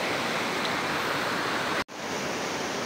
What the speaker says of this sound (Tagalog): Ito man ang falls